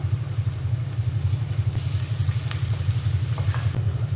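Onions with curry leaves, green chillies and coriander frying in a pan give a steady close-up sizzle over a constant low hum, with occasional small crackles and no talking.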